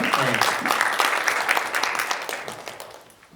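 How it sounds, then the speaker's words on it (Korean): An audience at an AI and copyright symposium claps for a presenter, a burst of applause that gradually fades out over a few seconds. "우리 박정훈 연구원께 한 박수 한번 보내주시죠"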